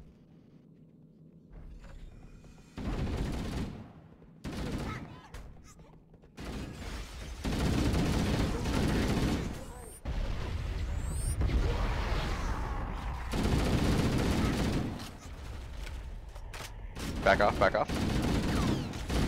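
Assault rifle gunfire in Halo: Combat Evolved, with bursts of automatic fire and rumbling blasts coming in several loud stretches and dropping between them, while a brief voice speaks over the action.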